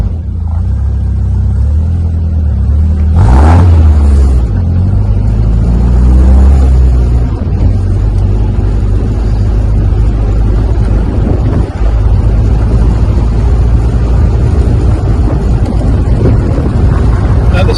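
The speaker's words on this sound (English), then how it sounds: "we're in the lovely little MG Midget and we're off for a test drive." A 1979 MG Midget sports car driving on a bumpy rural road, its engine a loud continuous low rumble from inside the cabin, with a brief clunk and a rise in engine note early on.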